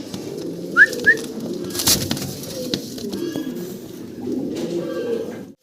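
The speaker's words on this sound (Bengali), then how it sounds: "রেড কালারের এক জোড়া লাহোরি কবুতর" A pair of red Lahori pigeons give two short, close coos early on, followed by a low murmuring background with faint voices talking.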